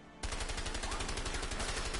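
Automatic gunfire in the video game A Way Out, a rapid, evenly spaced burst of shots starting abruptly after a brief pause and continuing loud and unbroken.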